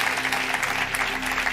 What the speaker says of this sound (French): give the Lord Jesus a mighty clap offering